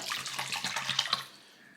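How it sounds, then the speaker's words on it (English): Water pours from a container into a large batch of glue while making fluffy slime, giving a splashy, gurgling stream that runs steadily for about a second and then tails off, close and fairly soft with no voices. "Put in water."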